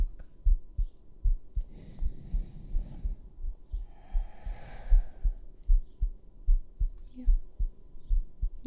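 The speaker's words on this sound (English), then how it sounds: "You can hear my heartbeat." A human heartbeat thumps steadily and close, a regular low pulse running throughout against a soft, calm background with faint breathy noise.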